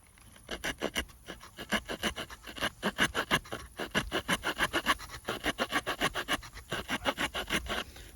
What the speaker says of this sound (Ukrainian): Тестую пилку, переріжу і поміряємо одразу діаметр.